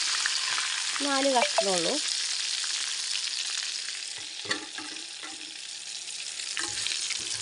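Chicken frying in oil with chili powder and pepper powder, a steady close sizzle and crackle running throughout, with a voice talking briefly over it.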